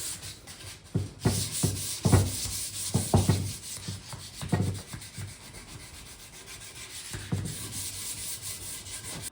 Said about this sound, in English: So I'm just gonna give it a nice little hand sand like I usually do